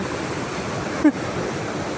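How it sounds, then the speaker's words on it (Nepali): Steady rushing water from a waterfall-fed stream beside a mountain road from Burtibang to Dhorpatan in Nepal, a continuous loud roar with one brief faint tone near the middle. "यताबाट झर्ना खोला यहाँ छ।"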